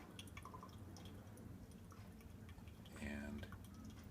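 Coffee trickles through a Melitta pour-over paper filter in faint, irregular drips over a soft background hiss, with a brief louder splash near the end.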